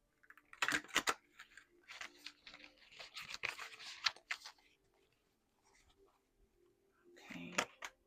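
Tarot cards being shuffled by hand during a reading, several bursts of crisp riffling and flicking with short pauses between, fairly close and moderately quiet, ending in a final shuffle.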